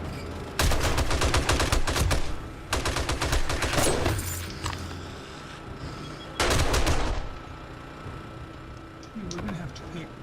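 M60 and SMG turrets in the video game 7 Days to Die, firing during a Blood Moon night. Several rapid, loud automatic bursts come in separate volleys with short pauses between them.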